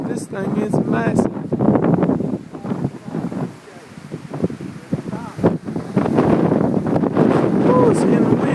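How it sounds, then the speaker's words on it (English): Strong wind gusts buffet the microphone near a massive tornado at Tuscaloosa, Alabama, a loud continuous roar that swells and eases, with people talking over it throughout. "Oh, it's getting windy out here."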